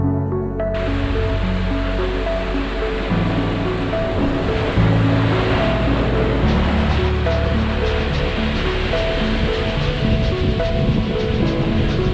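Powerful surf pounds the rugged Oregon coastline near the Spouting Horn, a loud, continuous roar of breaking waves that runs the whole time, with a faint steady tonal layer beneath it.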